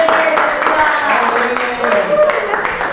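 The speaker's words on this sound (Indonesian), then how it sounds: "Tepuk tangan buat mereka kelompok satu dulu ya." A classroom claps for a student group, scattered hand clapping running throughout at moderate loudness while a voice talks over it.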